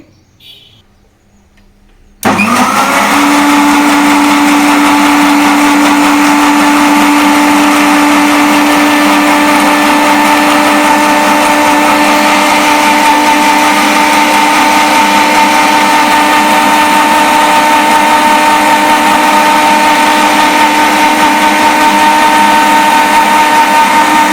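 A mixer grinder starts abruptly after a brief quiet moment, then runs loud and steady with a constant whirring hum, blending milk, sugar and banana into juice, with no talking.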